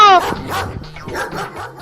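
A dog barks and yips in several quick, close bursts, with a whimpering edge, while people talk at the same time.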